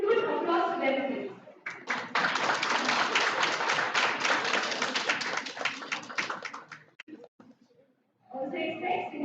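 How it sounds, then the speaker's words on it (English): Conference audience applauding student volunteers, a sustained burst of clapping for several seconds between stretches of a speaker's amplified voice. "Huge applause to them, please."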